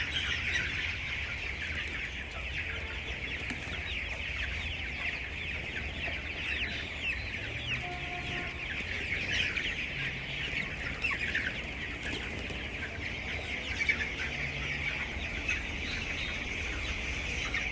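Broiler chickens on a poultry farm cluck and chirp as a dense, continuous flock chorus throughout, steady and fairly loud with no talking.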